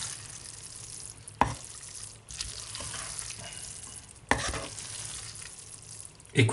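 Steady loud sizzling of pasta with chorizo in a hot pan, with a few sharp scrapes and clatters as the food is stirred.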